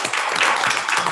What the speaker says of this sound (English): Let's give everybody a hand clap again for such a wonderful job.